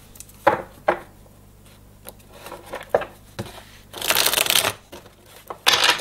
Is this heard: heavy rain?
no